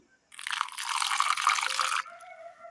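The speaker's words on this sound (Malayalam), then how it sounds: "അരയ്ക്കുവാൻ ആവശ്യമായ വെള്ളം" A short, steady pour of water splashing into a mixer jar for about two seconds, close and fairly loud, then a faint trickle.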